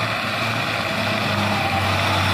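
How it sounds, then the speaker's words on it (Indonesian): An orange Fuso HD 220 PS truck climbs a hill with its engine droning at a steady, loud, low pitch, continuous and without voices. "Ada truk oren 220 PS."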